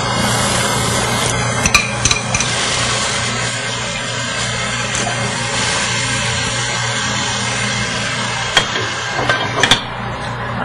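Beef goes into a hot pan and cooks with a loud, steady sizzle and frying hiss, broken by a few sharp clanks of a utensil against the pan.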